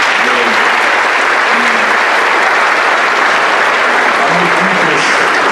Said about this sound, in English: big round of applause for all of you for doing such a wonderful job